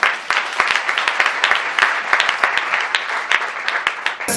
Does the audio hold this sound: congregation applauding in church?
yes